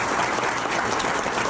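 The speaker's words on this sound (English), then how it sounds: "I would like to just have everyone give a round of applause for Inspire a Kid." Applause from an audience, a dense, steady clapping that fills the whole stretch at close, even loudness with no voices over it.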